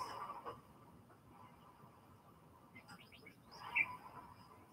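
Parrots in a blocky survival video game chirp in short, faint bursts over a steady low hum, with a louder cluster of bright calls near the end.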